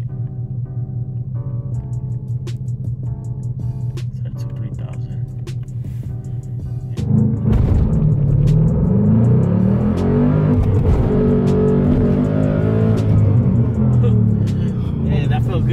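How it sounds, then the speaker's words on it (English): A 2015 Ford Mustang GT Performance Package idling steadily on launch control, then roaring hard as it launches and accelerates through rising revs. The engine sound is heard from inside the car, close and loud, with a person talking over it. "So that's basically the launch control."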